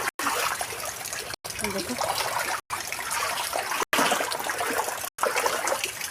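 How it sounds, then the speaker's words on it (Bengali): Floodwater in a house yard after heavy rain sloshes and splashes continuously as it is pushed along, close and steady, with someone talking over it and the recording cutting out in several brief gaps. "দেখো উঠানটার মধ্যে দেখো কি জল হয়েছে, কি ভালো লাগছে জলটা টানতে"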